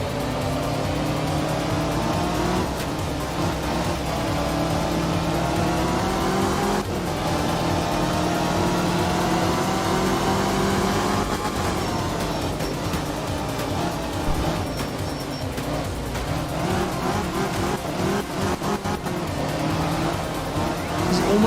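A rally car engine in the art of rally video game drones and revs continuously, pitch climbing and dropping as it shifts through the gears, steady and loud with occasional tire noise.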